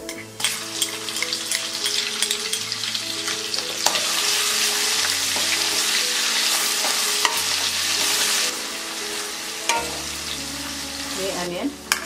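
Cumin and ginger-garlic paste fry in a pan for tawa pulao, a loud steady sizzle with scraping stirs and clinks throughout, and no voices.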